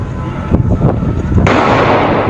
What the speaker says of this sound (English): gunfire ringing out